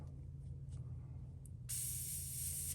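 A quiet low hum gives way to a sudden steady hiss of a spray gun spraying carbon black paint onto a fishing lure, continuing to the end, close and fairly loud.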